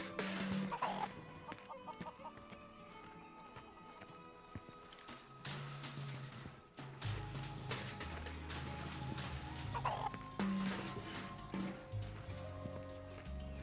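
A chicken in Final Fantasy VII Rebirth clucks in short bursts over game sounds, with a horse's clip-clop steps and a faint whinny mixed in, and music and effects layered beneath.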